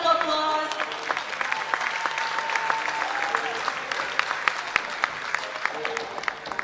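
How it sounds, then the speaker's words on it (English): A pageant finals audience applauds steadily, a dense wash of clapping holding at an even level throughout, with faint voices and a few sharper individual claps poking through. "Give them a round of applause."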